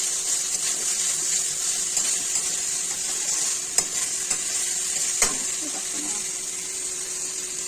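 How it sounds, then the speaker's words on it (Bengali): Spice masala for a rohu fish curry with potato and tomato fries in oil with a steady sizzling hiss, while a spatula stirs and knocks sharply against the pan a few times. "এইভাবে নাড়াচাড়া করে করে সম্পূর্ণ তেলটা কিন্তু ছেড়ে দিয়েছে"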